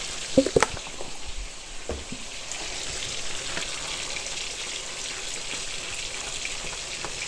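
Sausage patties fry in a pan with a continuous, even sizzle like light rain, and a few sharp clinks and knocks come right at the start.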